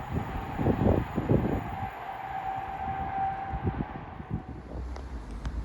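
Avanti West Coast train from London Euston to Liverpool Lime Street passing through Watford Junction on the West Coast Main Line, a loud rushing rumble with clattering wheel beats and a steady whine, easing off as it goes.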